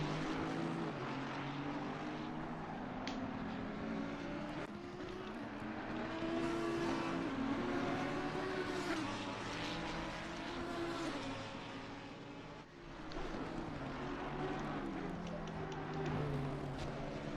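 Lamborghini race car engines roaring at Hungaroring in a racing video game, a continuous loud drone of several revving engines rising and falling through gear changes, with no talk.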